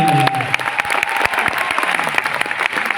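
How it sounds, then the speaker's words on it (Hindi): An audience at a speech program in Prayagraj breaks into loud, sustained applause, dense hand claps filling the room evenly with crowd murmur beneath. "उमेश पाल के लिए एक बार सभी लोग जोर से ताली बजाएं।"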